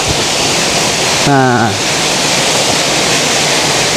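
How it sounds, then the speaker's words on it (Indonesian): A clear river stream at a pine forest campsite near a tea plantation flows in a loud, constant rush of water, close by; someone speaks briefly over it. "kita ngelewatin aliran sungai."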